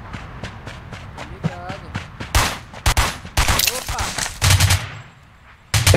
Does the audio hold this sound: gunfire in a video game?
yes